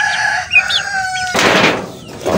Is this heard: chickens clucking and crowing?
yes